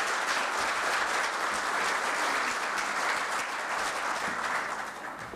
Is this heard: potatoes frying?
no